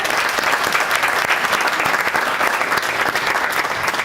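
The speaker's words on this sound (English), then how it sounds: "So I'd like to have a round of applause for everybody who's here and for the families." An audience at a veterans' event breaks into a round of applause, dense steady clapping from many hands filling the room continuously, with no voices standing out.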